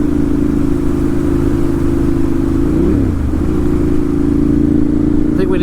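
A 2012 Ducati 796 Monster idles loud and close, its engine and exhaust holding a steady, throbbing burble with one brief blip of revs midway.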